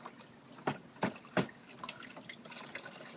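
A small child splashes in dripping water. A few sharp drips and splats land close by, then soft, scattered trickling and dribbling follow.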